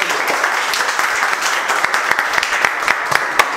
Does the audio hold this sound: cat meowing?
no